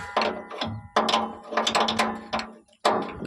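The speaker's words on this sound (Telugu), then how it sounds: "ఫస్ట్ ఈ బోల్ట్ ఓపెన్ చేయాలి." A ratchet wrench loosens a bolt to adjust a bike chain: close, crisp bursts of clicking, several quick runs separated by brief pauses, loud and alone.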